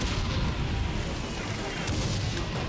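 Battlefield gunfire in the World War I video game Valiant Hearts: The Great War, heard as a continuous, dense roar of shots and distant booms with no pauses.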